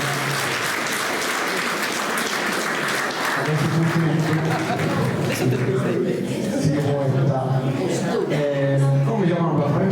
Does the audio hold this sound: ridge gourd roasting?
no